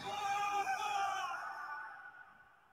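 A character in a video game trailer from the Xbox & Bethesda Games Showcase 2022 screams in a loud, drawn-out cry that slowly falls in pitch and fades over about two seconds.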